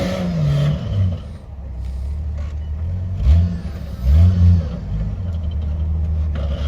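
A Jeep climbs a rocky ravine in third gear, its engine revving in repeated surges and dropping back between pushes, with some clatter over a steady rumble.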